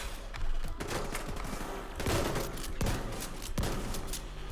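Repeated gunfire from a shotgun in The Division 2, several loud blasts spaced about a second apart, with sharp reports over a dense, noisy battle background.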